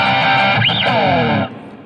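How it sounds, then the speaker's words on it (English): Electric rhythm guitar through a Line 6 Helix patch, playing a Little Drummer Boy part: a thick, effected, distorted wash of sustained chords with a sweeping pitch bend in the middle. It stays loud and steady, then drops away near the end. "The first guitar part is a rhythm guitar part."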